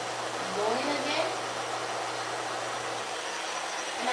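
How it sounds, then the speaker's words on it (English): A handheld hair blow dryer running during a natural hair styling session, a steady broadband whooshing hiss with a low hum, loud and close, with faint voices briefly underneath. "this is how you hold your blow dryer"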